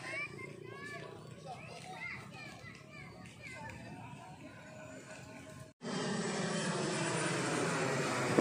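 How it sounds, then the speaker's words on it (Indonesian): Children's voices and play chatter fill the background at a lakeside park, then a steady loud roar of an airplane engine takes over, passing low overhead. "pesawat lagi yang lewat"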